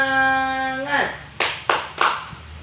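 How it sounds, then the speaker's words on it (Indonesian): A group does a rhythmic cheer clap at the close of a school-style presentation: three sharp, unison clap bursts spaced evenly apart, following a fading sustained tone. "ayo kita tepuk semangat"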